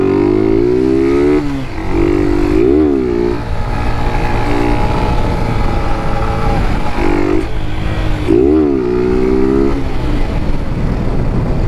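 A modified small motorcycle revs hard while doing a wheelie, its loud, close engine howling steadily with repeated pitch swoops as the throttle rises and falls, and no other sound over it.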